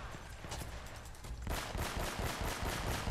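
Rapid gunfire from enemies in the video game Uncharted, played on Crushing difficulty, crackles as a dense continuous volley that grows louder and thicker halfway through, with no talk over it.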